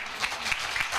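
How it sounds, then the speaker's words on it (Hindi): An audience claps enthusiastically in a brief, dense burst of applause heard at a moderate distance, with no individual voices standing out. "फटाफट उनके लिए जोरदार ताली हो जाए।"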